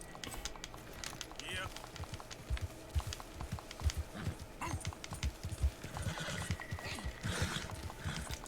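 A horse's hooves clip-clop in an uneven walking rhythm at moderate distance, with a person talking over the steps.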